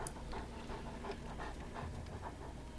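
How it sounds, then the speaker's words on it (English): Faint, rapid panting from dogs in the video game Wasteland 2 under a steady background hum, soft breathy huffs repeating throughout. "I hear dogs."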